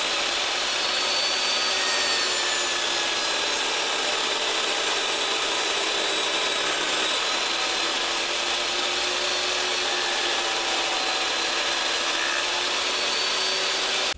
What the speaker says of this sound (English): I always like to run a demo piece through the saw before I get started to make sure my cut is right